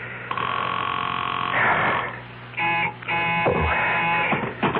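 A telephone rings in a 1974 CBS Radio Mystery Theater drama, a bright buzzing electronic ring repeating in bursts with brief gaps, loud and close on a narrow, old-broadcast sound.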